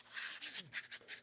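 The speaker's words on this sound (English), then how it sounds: "And then it's just as easy as just loose sanding" Light rubbing as a piece is loose sanded by hand with rolled 180 grit sandpaper while shaping an EDF thrust tube, giving quiet, uneven scratchy strokes in short bursts.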